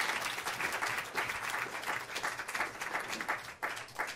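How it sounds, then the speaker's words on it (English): An audience at a talk on disability gives another round of applause for the speaker, a steady dense clapping from many hands, moderately near, continuing for several seconds with slight swells. "another round of applause for her"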